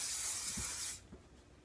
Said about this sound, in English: This is the Full Control Anti-Humidity hairspray.